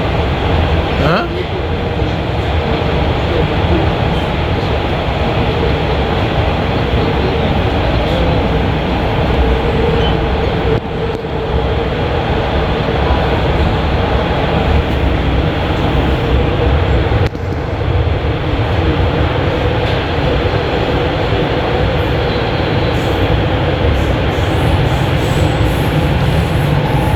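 A Toronto subway train heard from inside the car, a loud continuous rumble of wheels and motors on the track that barely changes, with faint voices now and then under the noise.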